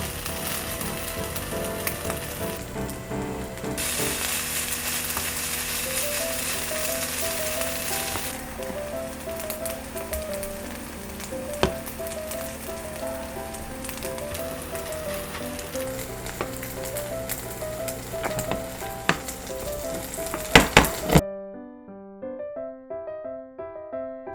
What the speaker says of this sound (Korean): 바닥면이 노릇하게 구워지면 뒤집어서 다른 쪽도 구워주세요.